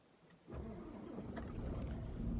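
A Mercedes Arocs truck's diesel engine starts with a sudden low rumble and settles straight into a steady, close idle that grows slightly louder, with no talking over it.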